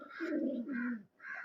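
Fighter pigeons coo in a close, rolling, throaty series, two long bursts and a shorter third after a brief pause, with no voices over them.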